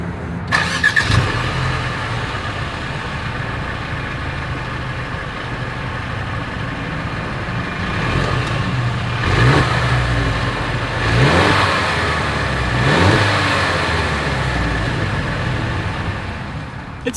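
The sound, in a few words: SUV engine starting and exhaust revving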